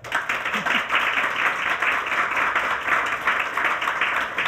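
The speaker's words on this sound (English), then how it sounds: "please give a big round of applause to welcome Marissa Vicario" An audience breaks into loud, sustained applause to welcome a guest onto a stage at a business startup panel event, with dense steady clapping that continues throughout.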